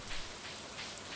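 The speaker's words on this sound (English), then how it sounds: "More rain, hell yes!" Rain falling in the Stardew Valley game, a steady soft hiss of rainfall with faint drop patter, brief and uninterrupted.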